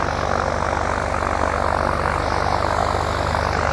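A loud, steady propeller airplane engine at an airport drones continuously, filling the air with a constant roar.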